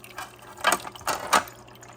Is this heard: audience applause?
no